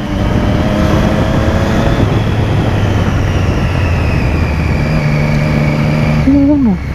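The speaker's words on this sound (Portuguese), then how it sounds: "Eu amo o barulho desse meu motor." Car engine drones loud and close inside the moving vehicle, a steady throbbing hum whose pitch rises and falls slightly as it runs, ending with a short upward-sweeping whine.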